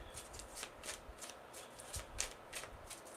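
A deck of tarot cards is shuffled by hand in quick, close, rhythmic riffling bursts, repeating steadily for a few seconds with no talk.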